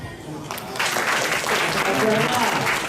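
Audience applause and cheering at a Japanese 2-on-2 street dance battle quarter-final, a dense sustained clapping crowd swelling after a brief pause, with an announcer's voice over it.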